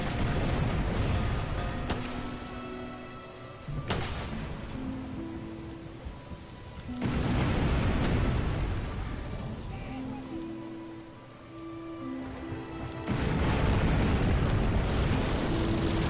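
Naval cannon fire and a ship being sunk in the pirate game Tempest, several heavy booming broadsides and rumbling blasts in waves, mixed with game music and effects.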